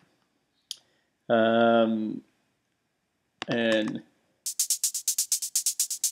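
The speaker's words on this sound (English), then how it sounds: "just a little shuffled hi-hat there" A shuffled, slightly dirtied 909 hi-hat in an electronic track ticks in a quick, swung run of about a dozen bright hits near the end, following two short voiced phrases of talk.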